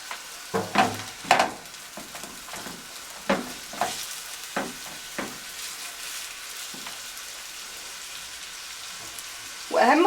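Onion and garlic frying with spices in a pan, a steady sizzle with sharp scraping stirs in the first half and a louder burst at the end.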